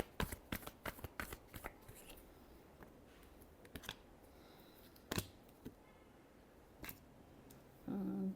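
Tarot cards being shuffled close up: a rapid run of crisp riffling clicks at first, then sparser single snaps and slides against a quiet background.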